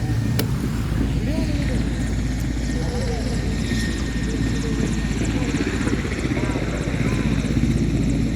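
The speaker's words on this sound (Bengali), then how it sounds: "ধরো ধরো হেলিকপ্টার দেখো না" A helicopter passes overhead as a continuous loud rotor and engine drone, heavy in the low end and steady throughout, with people talking and calling out over it.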